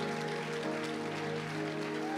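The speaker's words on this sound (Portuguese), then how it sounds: "Aplaudam o Senhor, Ele merece" Steady applause from a church congregation during a worship service, a dense, even wash of clapping that fills the short moment, with a sustained tone underneath.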